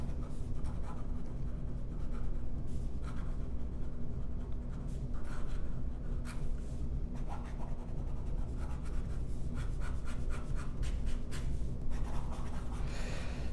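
Otto Hutt Design 08 fountain pen with an extra fine nib writing fast on paper, a steady close scratching and rubbing of strokes that continues throughout over a low background hum, with no talking.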